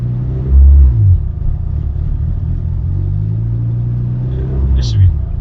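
Racecar engine rumbling low while driving, with a couple of throttle swells near the start and end, loud and close inside the cabin.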